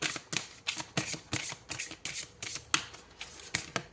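Oracle cards riffled and shuffled in a steady series of about ten crisp, close bursts, each a short papery flutter with brief gaps between, no voices.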